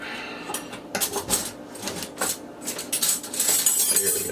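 Metal utensils clatter and jangle as someone rummages through a kitchen drawer or crock for a big spoon while canning cowboy candy, irregular clinks and scrapes close by with no talk.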